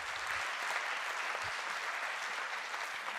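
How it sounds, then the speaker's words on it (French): An audience applauds at a high-school prize ceremony as awards are handed out, a continuous even wash of many hands clapping, moderately distant and unbroken, with no talk over it. "Sous vos applaudissements, s'il vous plaît."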